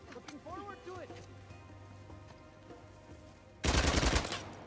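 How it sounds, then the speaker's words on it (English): Gunfire in the video game Uncharted: The Lost Legacy ends in a loud, dense burst of rapid automatic shots. Game voices and ambient noise come before it. "Gunfire."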